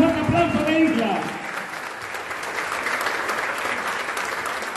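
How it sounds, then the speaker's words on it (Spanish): A crowd applauds at a Movimiento Ciudadano municipal swearing-in event, steady clapping that carries on after a voice speaks briefly over the start, then settles into an even patter. "¡Venga ese fuerte aplauso de Isla!"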